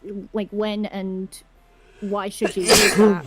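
A loud sneeze bursts out around the middle of the clip, between stretches of casual conversation among podcast hosts.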